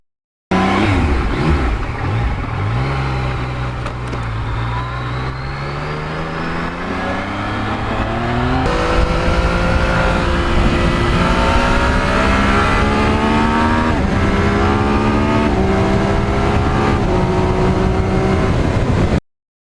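A Yamaha MT-09 naked motorcycle engine revs and pulls through rising gears close by, with pitch climbing, dropping at shifts and climbing again in repeated strong surges.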